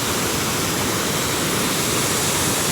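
Heavy water rushing at Netod dam, a loud, dense, unbroken roar like a waterfall that stays constant and close throughout.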